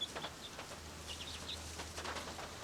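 A hen and her chicks cluck and peep inside a covered, warm coop on a wet day, with soft, high chirps scattered over a steady low hum, close and quiet.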